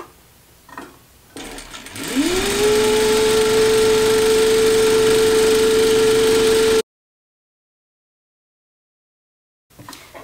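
A sewing machine runs a continuous line of running stitches on 18th-century trimming, spinning up to a steady, loud mechanical whir that holds for about five seconds and then cuts off into silence.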